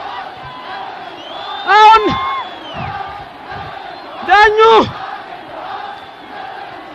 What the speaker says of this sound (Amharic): ህዝቡ ደስታውን እየገለጸ ነው